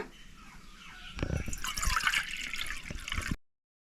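After a quiet start, water is poured close by into a pot of masoor dal, a gurgling, splashing pour that lasts about two seconds before cutting off.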